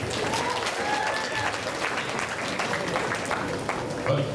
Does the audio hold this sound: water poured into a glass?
no